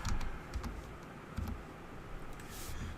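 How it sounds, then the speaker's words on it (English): Typing on a computer keyboard while placing a stock trade, with soft, fairly quiet key clicks in irregular short bursts over a low background hum. "It'll help if I type without making mistakes."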